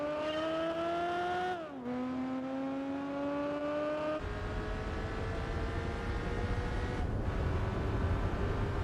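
An inline-four car engine in the Gran Turismo 4 video game revs up through the gears. Steady rising tones drop sharply at each shift, then a harsher, noisier engine drone takes over, loud and close.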